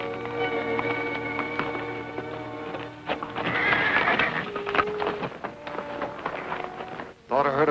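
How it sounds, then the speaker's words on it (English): Horse neighing in a 1941 Western film scene, a long quavering whinny near the start, then hoofbeats and mixed action sounds, with a second whinny near the end, under other noise. "Thought I heard a horse whinny."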